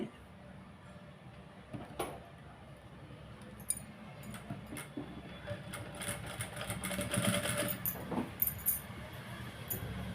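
A sewing machine stitching a blouse armhole, a fairly faint whirring run with intermittent clicks and rattles that grows busier toward the end, in a quiet room.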